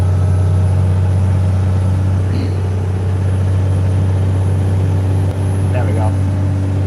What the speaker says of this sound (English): I like hearing the engine.